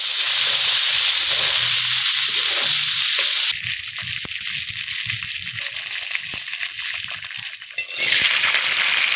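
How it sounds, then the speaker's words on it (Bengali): Cut cauliflower pieces fry in a pan for khichuri, giving a loud, continuous hiss and crackle with some sloshing movement partway through. "কপিগুলো ভাজবো"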